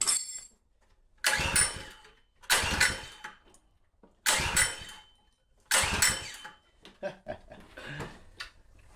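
A 212cc motor fitted to the Dirt Bug struggles to start, with four loud pull-start bursts that sputter briefly and die, separated by short pauses, then a few weaker coughs.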